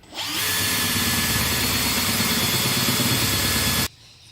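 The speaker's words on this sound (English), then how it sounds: "You've got to put quite a bit of force down when you're hand drilling without the drill press." A hand drill bores through wood at close range for several seconds, a dense steady grinding whine that stops sharply near the end.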